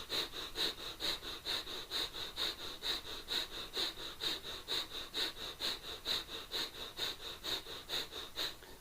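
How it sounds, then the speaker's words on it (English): Rapid rhythmic breath of fire from a kundalini yoga class, forceful nasal exhalations repeating steadily about three per second, close and even, with no talking. "We start breath of fire."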